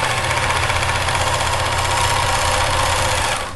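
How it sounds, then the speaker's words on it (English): A serger sewing machine stitches fabric, running as a steady, loud, continuous hum for the whole stretch, with no talking. "Sergers are a wonderful, wonderful invention."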